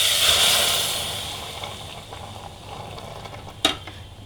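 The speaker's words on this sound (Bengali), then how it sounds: "তো এখন আমি এখানে দুধটা ঢেলে দেবো।" Milk poured into burnt, caramelised sugar in a hot pan for a burnt-sugar yogurt dessert, giving a loud broad hiss and sizzle that gradually fades, with a sharp clink near the end.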